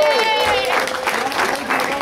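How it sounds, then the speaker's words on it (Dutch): Audience applause in a café talk-show setting, a crowd clapping close and steady while a voice speaks over the top of it. "laten we beginnen met een applaus voor Ralf de Pachter"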